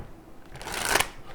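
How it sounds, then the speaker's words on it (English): Tarot cards being shuffled by hand, a brief close riffling flutter that swells and fades in a quiet room. "I know there's a lot of shuffling here"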